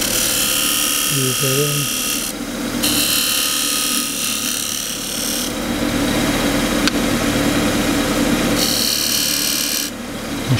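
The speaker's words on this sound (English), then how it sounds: "I'll just put a little recess in the bottom, and I do that with the heel of the skew" A wooden box spins on a lathe while the heel of a skew chisel cuts a small recess into its bottom, giving a steady broadband whir with scraping bursts that swell and drop. Someone speaks briefly over it.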